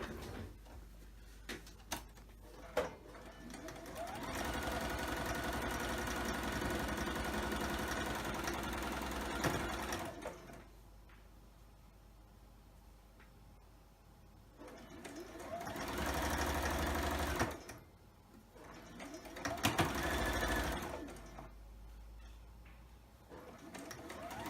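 A sewing machine stitches quilt block pieces in two runs of rapid, steady mechanical whirring, close by, with quiet pauses and small handling clicks between them.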